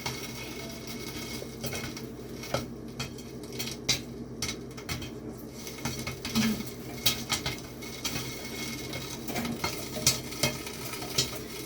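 Popcorn pops in a pot on an electric stove with the heat turned off: scattered soft pops and patter over a steady sizzle, close and fairly quiet, with no talking.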